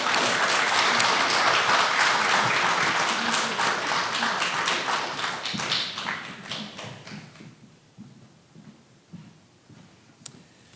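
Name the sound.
audience applause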